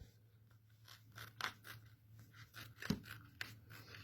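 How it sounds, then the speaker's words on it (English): Scissors trimming a fabric panel for a zip bag, a few quiet, separate snips and crisp cuts spaced over a few seconds against a low background hum. "We're going to trim this one again."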